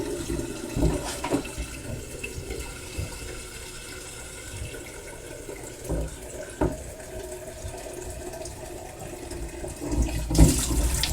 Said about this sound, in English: I'll fill this jug up.